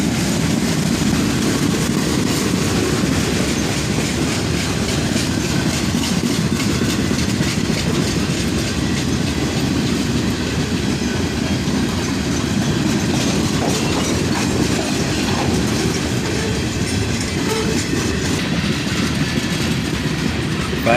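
A long cut of CSX boxcars on a freight train rolls steadily past, a loud continuous rumble with faint rhythmic clatter of wheels on rail joints, no voices.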